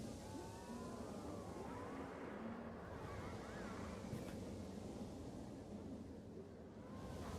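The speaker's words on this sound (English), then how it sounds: "My God, it is so windy here today." Steady wind gusts in the theme-park game Planet Coaster 2, a constant whooshing rush with faint whistling swirls throughout, heard alone at low level.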